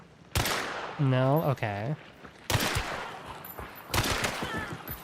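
Gunfire in a video game, a few sharp bursts of shots in separate clusters, loud and close, with people talking between the bursts.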